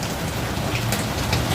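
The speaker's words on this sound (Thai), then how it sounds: "เป็นเสียงฝน" Steady, heavy rain pours down without a break, a dense hiss of drops drumming on a surface, close and constant throughout.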